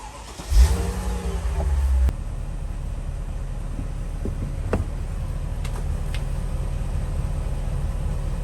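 A Mercedes W220 S430 engine with Lorinser air suspension cranks and catches with a short loud burst, then settles into a steady low idle that runs on with faint clicks.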